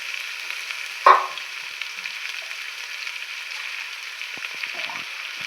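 Marinated country chicken goes into a hot pot: one sharp splash near the start, then a steady soft frying sizzle continuing alone with faint stirring clicks toward the end.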